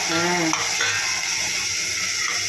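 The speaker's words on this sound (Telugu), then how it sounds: "ఇప్పుడు టమాటా 4-5 టమాటాలు వేస్తామది." Four or five tomatoes fry in a pan, giving a loud, close, even sizzle with a soft stirring scrape near the start.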